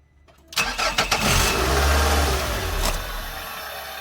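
A car engine cranks in a few quick starter bursts, then catches and settles into a loud steady idle, heard close up in a garage during a transmission flush.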